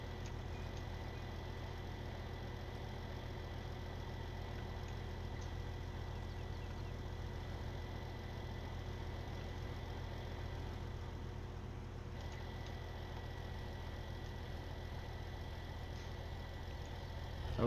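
Steady tractor engine from Farming Simulator 17 running at a constant idle-like drone, low and continuous throughout with no speech.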